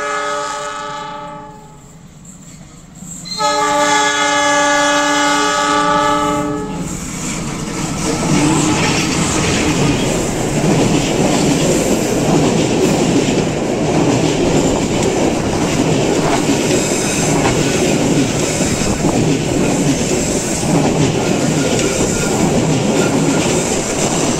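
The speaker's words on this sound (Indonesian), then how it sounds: "ada kereta api Harina Pagi, persiapan masuk terowongan Sasak Saat" A passenger train horn sounds in long harmonic blasts as it approaches the Sasaksaat tunnel in West Bandung, Indonesia, then a loud, steady rumble of rail cars rolling past close by.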